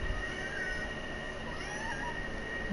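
A pet cat named Shadow meows faintly indoors against a steady background hum, the cry brief and soft rather than prominent.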